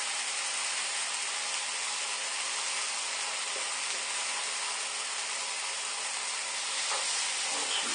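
Pork loin steak and tomatoes frying in a hot pan, a steady close sizzle with light crackle running throughout, a few faint scrapes as the pieces are moved around.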